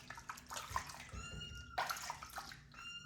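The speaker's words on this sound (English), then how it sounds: "And now we're going to rinse him. We're going to take this water just like this." Water pours and sloshes in a bath as a rescued kitten is rinsed of parasites, splashing near and continuous with a few gurgles and drips.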